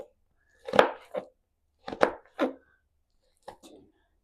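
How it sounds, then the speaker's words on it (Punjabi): Vegetables are finely chopped for hakka noodles, a few sharp knife strikes on a board in small clusters separated by quiet pauses. "ਇਹਨੂੰ ਬਰੀਕ ਬਰੀਕ ਕੱਟਣਾ"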